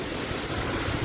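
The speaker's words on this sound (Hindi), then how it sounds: "काफ़ी तेज हवा चल रहा है" Strong wind blowing under a dense cloudy sky ahead of rain, a loud continuous broadband roar with buffeting against the microphone, steady throughout with no voices.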